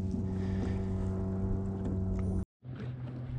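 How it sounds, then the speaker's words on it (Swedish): A fine Alumacraft 175 aluminium boat passes by on the lake, its outboard engine a steady, fairly close drone that cuts out abruptly near the end and then resumes. "Kommer en fin båt här."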